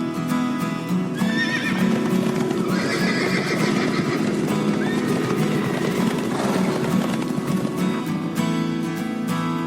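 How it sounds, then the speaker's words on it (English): Horses whinny and neigh loudly over a steady patter of clip-clopping hooves, the calls rising out of a dense, continuous background with no talk. "What are they? Answer, horses!"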